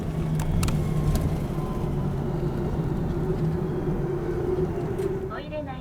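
Inside a highway bus travelling from Muroto toward Osaka Namba in Tokushima, a steady engine and road rumble fills the cabin, with a faint announcement-like tone near the end.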